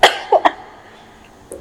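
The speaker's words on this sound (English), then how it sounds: "Sorry, I have to cough." A person coughs in a quiet room during a conversation, giving a short cluster of two or three close, sharp coughs followed by a fainter one.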